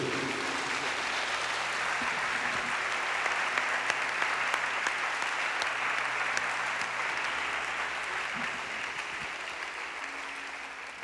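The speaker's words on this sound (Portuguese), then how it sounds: "Se você pode, aplauda a obra da cruz." Sustained congregation applause in a church service, a steady dense wash of clapping with a few sharper claps, continuing at even strength and easing slightly at the end.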